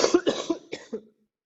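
Several harsh coughs in a quick burst, five or so bursts over about a second, close and fairly loud, then silence.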